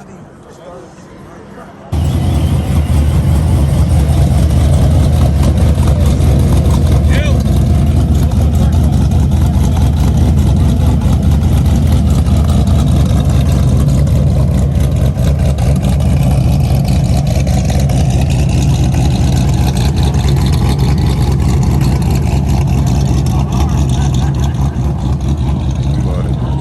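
A modified, supercharged Dodge muscle car, a Hellcat or procharged SRT, idles with a deep, loping, uneven chop. The rumble is loud and steady for about 24 seconds after a brief quieter start.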